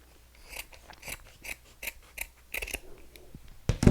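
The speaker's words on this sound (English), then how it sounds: "And you're going to fold it in half, and we're going to cut it in half." Scissors cutting a folded piece of craft material in half, a close series of crisp, regular snips spaced about every half second, ending with a louder thud or rustle.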